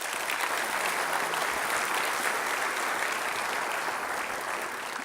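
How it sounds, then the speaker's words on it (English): An indoor audience at a mayor's development forum in Long Beach applauds a housing development, steady dense clapping that carries at even strength throughout with no voices. "So let's give everyone involved in the Douglas Park development a big round of applause."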